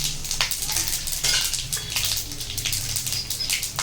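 Whole spices, pepper and cumin, hit hot oil for a pongal tempering, making a close crackling sizzle with scattered pops and faint utensil clinks throughout, no voices.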